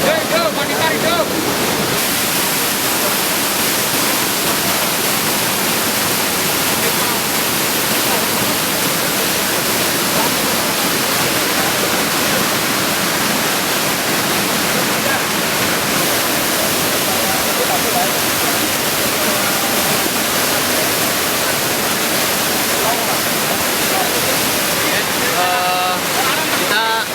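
Rushing river water at a search site on a river, a loud, steady, broadband roar that stays constant throughout without pause.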